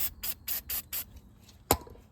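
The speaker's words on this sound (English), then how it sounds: "I'm going to take our can of degreaser and spray some on this oil here." A can of degreaser sprays in five quick, even bursts on oil during a motorcycle oil change, followed after a pause by a single sharp knock.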